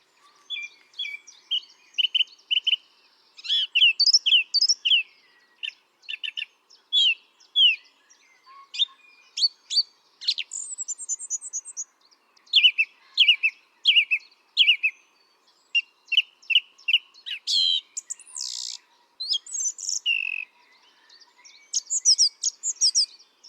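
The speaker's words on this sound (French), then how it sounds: "La grive musicienne a un très joli chant, d'où son nom." A song thrush sings clear, varied phrases, each repeated a few times in quick bursts with brief gaps, bright and close, with no other sounds.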